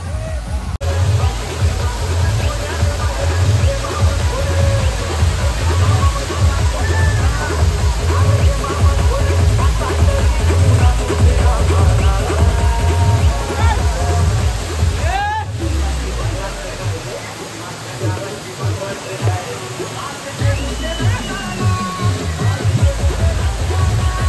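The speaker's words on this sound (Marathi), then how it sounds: "हा तो समोरचा धबधबा आहे." A waterfall at Malshej Ghat roars loudly and steadily throughout, a dense, close rush of falling and splashing water with faint voices mixed into the din.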